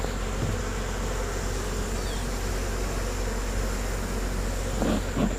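Honey bees swarm and buzz steadily inside a hive after being smoked, a dense, continuous, close drone with a few faint knocks near the end.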